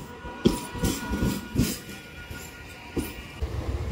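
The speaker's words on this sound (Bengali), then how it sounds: "আমার ভারত ভ্রমণের 4 নম্বর লোকাল ট্রেন ঢুকছে" An Indian local train pulls into a station platform with a steady low rumble and rhythmic wheel clacks, heard from the platform at moderate distance.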